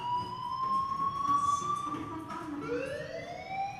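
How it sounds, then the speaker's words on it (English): A fire alarm wails in the video game Life is Strange, a steady electronic tone that slides in pitch partway through, held at moderate loudness over a faint background. "Hey, do you hear that fire alarm?"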